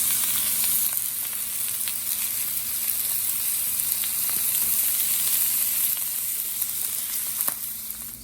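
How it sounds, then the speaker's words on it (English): Steaks sear loudly in a hot pan with rosemary, garlic and butter, giving a constant, close, bright sizzle with occasional small pops throughout. "now that we've seared both sides"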